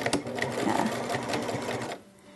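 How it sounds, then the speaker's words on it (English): A sewing machine stitching fabric for a burp cloth, running in a fast, continuous mechanical whir for about two seconds before stopping abruptly. "So what we're going to do is we're just going to start that stitch."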